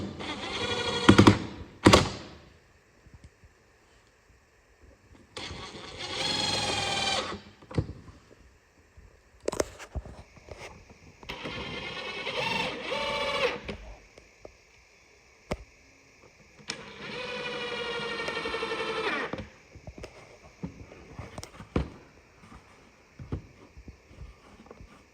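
Screws being driven into a HiveiQ beehive: several separate bursts of a power drill's whining buzz, each lasting a second or two, with quiet pauses and small knocks of handling between them, close and clear.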